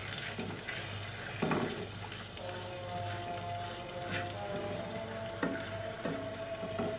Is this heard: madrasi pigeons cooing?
no